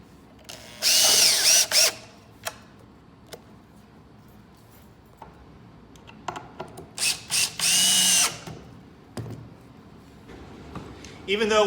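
A small rechargeable cordless electric drill whirs in two loud bursts, the second broken into several brief stop-start pulses, with clicks and handling noises between runs.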